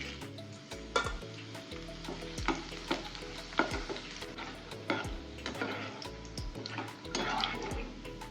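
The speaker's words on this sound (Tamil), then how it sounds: "சூடான எண்ணெயில் இந்த வரமிளகாவை போட்டு பொரிச்சு எடுத்துடுறேன்." Dried red chillies frying in hot oil, a continuous crackling sizzle punctuated by repeated knocks and scrapes of a spoon against the pan, close and clear with no talk.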